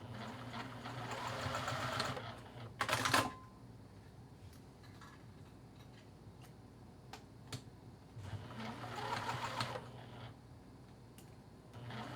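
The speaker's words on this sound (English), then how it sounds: "So I'm going to head over to the sewing machine." A sewing machine tacking down a zipper runs in a couple of short stitching bursts, a quick mechanical whirr, with quiet clicks and handling noises between runs.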